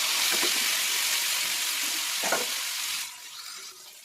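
Chickpeas and potatoes fry with green chili in a pan, giving a bright, close hissing sizzle with a few stirring scrapes, which quiets abruptly after about three seconds.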